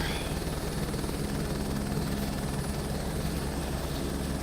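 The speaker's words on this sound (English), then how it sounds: "I've not yet mastered the fast stop for a helicopter." Helicopter in Microsoft Flight Simulator 2024, a steady, loud rotor and turbine drone holding at constant level throughout with no talk.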